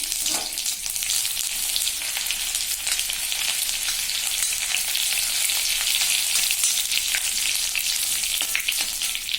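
Steady, dense sizzling of seeds and garlic frying in hot oil, a continuous crackling hiss with occasional sharper pops, close and fairly loud.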